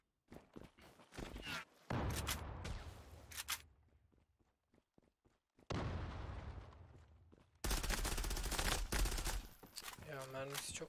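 MP7 with a silencer fired in the Zula shooter game: quick clusters of close shots and clicks, broken by louder noisy bursts and pauses, with speech in between.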